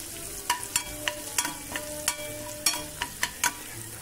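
Green chillies frying in hot oil with a little turmeric, a soft sizzle under repeated sharp clinks and scrapes of a spoon stirring in the pan, close and fairly quiet.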